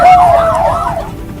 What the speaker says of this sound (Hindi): पूरे इलाके में सायरन की आवाज गूंजने लगी।